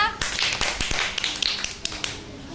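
Several schoolchildren in a classroom clap in a brisk burst of sharp, close hand claps that thin out toward the end, with a steady room murmur underneath.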